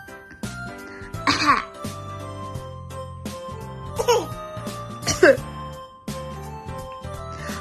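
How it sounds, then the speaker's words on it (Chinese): A baby repeats throaty pretend coughs in three or four separate bursts, close and fairly loud, over a soft tinkling lullaby melody. "你刚刚是不是咳嗽了？"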